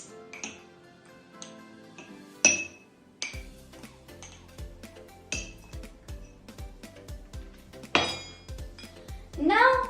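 A spoon clinks and taps against a glass holding baking soda for a home volcano experiment. The taps are sharp, close and irregular, with a few louder rattles and some scraping.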